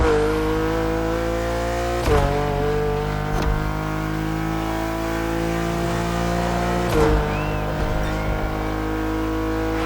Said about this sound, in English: Exhaust, turbo whistling